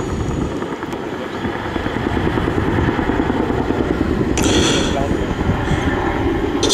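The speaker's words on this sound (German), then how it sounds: "the speed comes on, generating that distinctive sound of Chinook rotor blades" Boeing-Vertol CH-47 Chinook tandem-rotor helicopter at an air show, its rotor blades producing a steady loud throbbing chop that swells as it passes, with a commentator's voice over it.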